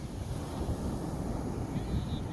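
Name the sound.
wind blowing outdoors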